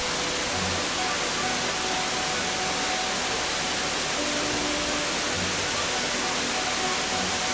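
The Cascade de Glandieu waterfall pours in a dense, unbroken roar of rushing water, loud and steady throughout with no other sounds standing out.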